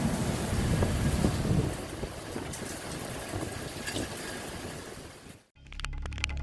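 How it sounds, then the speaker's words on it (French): Warm tropical rain and wind gusts during a lightning storm make a steady, broad rushing roar that ends in a sudden cut to a brief, different burst of noise. "Bien qu'il soit agréable d'être sous une chaude pluie tropicale, ce n'est pas terrible lorsqu'il y a des rafales de vent et des éclairs puissants."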